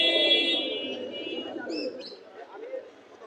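Pigeons coo softly in low, rolling murmurs at a pigeon market in Atibazar, Bangladesh, while people talk close by, with a few brief chirps.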